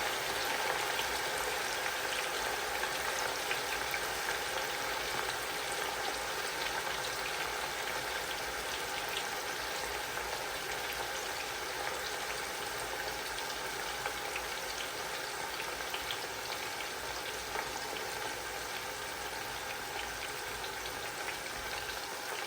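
Pork pieces frying in hot oil for Thai fried pork, a dense, steady crackling sizzle that stays even and fairly close for the whole stretch, with no talking over it.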